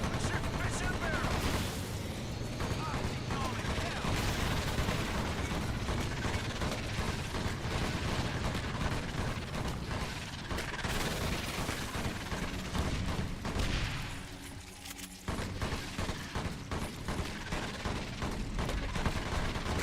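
Continuous in-game weapon fire from EDF: Insect Armageddon, a dense, busy wash of shots and mechanical clatter running almost the whole time, briefly thinning near the end before resuming at full loudness.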